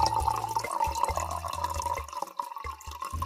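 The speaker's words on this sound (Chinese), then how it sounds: "把菜都放在水池里，赶紧洗一洗，冲一冲吧" Water runs and drips into a toy kitchen sink as vegetables are rinsed, a steady trickle with a few brief breaks, fairly close and moderately loud.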